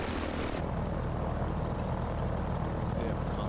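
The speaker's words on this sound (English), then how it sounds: "The sound of the engine is delightful." An F4F-4 Wildcat's radial piston engine drones steadily and loudly at a fly-in, a constant throbbing rumble that runs unbroken from start to finish.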